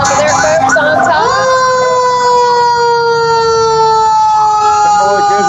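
A Timberlake Fire Department fire and rescue engine rolls past in a Christmas parade, its siren wailing loud and close for several seconds with layered rising tones over rumbling engine noise and crowd sounds.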